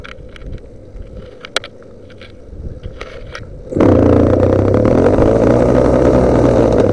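A motorized bicycle engine sits at a low rumble, then suddenly revs up loud and close, holding a steady buzzing drone as the bike pulls away.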